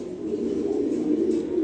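A pair of big black racer pigeons coo close up in a steady, low, continuous burbling murmur.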